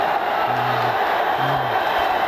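Loud, dense roar of an ice hockey crowd during a mass brawl at a final, steady shouting and cheering filling the arena, with a couple of rising whoops.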